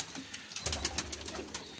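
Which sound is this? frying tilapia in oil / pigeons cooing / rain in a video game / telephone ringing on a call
pigeons cooing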